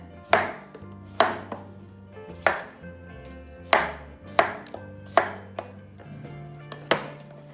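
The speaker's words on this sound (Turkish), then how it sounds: "Patateslerimizi de gene kesip buraya koyuyoruz." Potatoes being chopped for a beetroot soup, a knife striking a cutting board in about ten crisp, separate chops at an uneven, unhurried pace, close and clear with nothing else over them.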